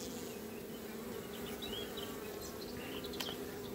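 Honeybee colony humming at the hive, a dense, continuous buzz of many bees at close range holding steady throughout, with occasional individual bees droning past.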